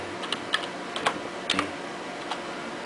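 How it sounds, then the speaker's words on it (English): Keystrokes on a computer keyboard while entering a BIOS flash command on an old motherboard setup, a handful of sparse, close clicks spread irregularly across the moment with no talking. "then you need to type the name of the update file"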